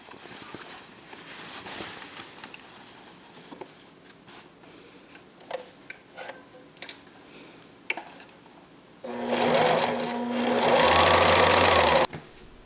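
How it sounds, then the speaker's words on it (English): A sewing machine zigzag stitching Velcro onto a fabric pillow, with scattered ticks and handling clicks at first, then a loud steady whirring run of stitching for about three seconds close by. "you can zigzag the Velcro in place instead if you like"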